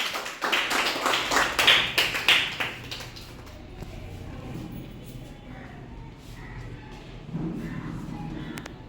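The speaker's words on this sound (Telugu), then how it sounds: "వెరీ గుడ్ క్లాప్స్ కొట్టండి అందరూ" A classroom of schoolchildren clapping together in a quick burst of sharp claps up front, fading into quiet room murmur and faint voices afterward.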